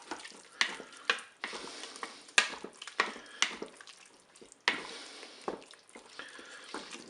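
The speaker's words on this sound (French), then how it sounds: "Je vais aussi ajouter ma cuillère à soupe de moutarde. Je mélange également." Mustard being stirred into a hot sauce in a Cookeo multicooker, heard as wet scraping and squelching strokes in an uneven rhythm over a soft sizzle, close and fairly clear.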